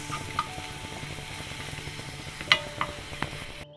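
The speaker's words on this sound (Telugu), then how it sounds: "అల్లం వెల్లుల్లి పేస్ట్ మంచిగా ఫ్రై అవ్వాలండి" Ginger garlic paste frying in a pan for pav bhaji gives a soft, steady sizzle, with a few sharp scrapes and clinks of a spoon stirring against the metal.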